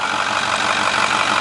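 A 2010 Ford F250 Lariat Ultimate FX4 truck engine idling with the oil fill cap set loose, a steady, loud, close mechanical drone with no voices.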